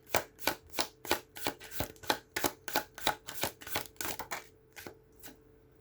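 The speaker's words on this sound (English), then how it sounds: "I actually saw that when I cut the deck, when I was shuffling." A deck of tarot cards is riffled and shuffled in quick rhythmic bursts, about a dozen crisp rustling flutters close up that slow and fade toward the end.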